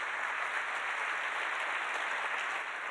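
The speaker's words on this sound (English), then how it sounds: "Can we get another round of applause for our sponsors" Soft, distant applause from a conference audience at a sustainability summit, a steady even patter of clapping heard faintly from afar for the whole stretch.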